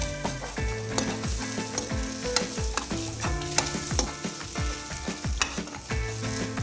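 A quarter cup of ordinary fresh coconut roasts with spices in a pan for brinjal rice, a bright continuous sizzle punctuated by regular metallic spatula scrapes and taps, close up with no talking.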